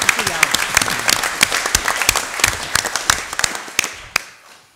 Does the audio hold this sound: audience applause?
yes